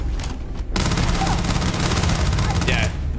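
Rapid, loud gunfire from a gun in the video game Starfield, a dense continuous burst of shots lasting a couple of seconds after a brief quieter lead-in.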